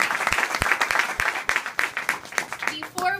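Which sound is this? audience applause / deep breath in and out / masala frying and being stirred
audience applause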